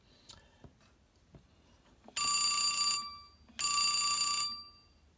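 An old telephone switchboard's electromechanical bell rings loudly in two long bursts, preceded by a few soft clicks and taps in a quiet room.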